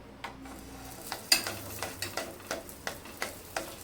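Tel poli, an oil-based puran poli flatbread, cooks on a hot pan with a little oil, giving a soft, steady sizzle broken by light, regular scraping or tapping touches roughly every third of a second, with no talking.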